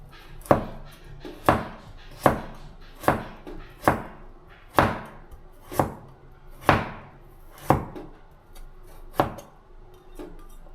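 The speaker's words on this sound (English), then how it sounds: "and cut it into thin strips" A knife chops a peeled carrot into thin strips on a cutting board, giving about a dozen crisp, evenly spaced thuds at close range with nothing else heard.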